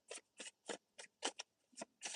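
Tarot cards are shuffled in quick, crisp bursts, about eight short riffles in an even rhythm, close and quiet with no talking.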